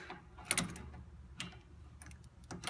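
A wrench works on an Acura MDX inner tie rod, producing a few sparse metallic clicks and ratcheting knocks with quiet gaps between them, close and fairly faint.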